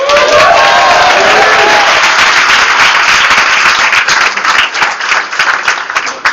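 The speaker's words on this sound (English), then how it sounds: "Give him a round of applause." A football banquet crowd applauds a player, loud and dense from the start, with a brief whistle at the outset, then slowly thinning into scattered claps.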